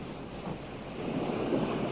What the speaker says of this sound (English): the wind begins to blow and the waves rise wildly